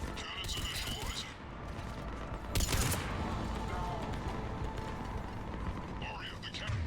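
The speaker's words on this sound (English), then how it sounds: "Cannons initializing." Mechanical clanking and ratcheting bursts with a sharp whooshing surge midway as cannons power up in Mass Effect 3, like heavy weapons cycling up, with a voice speaking over it.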